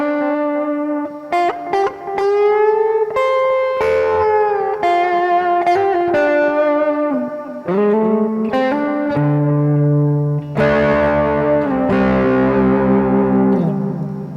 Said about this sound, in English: Turn the volume up on the guitar a bit and you get a little bit of breakup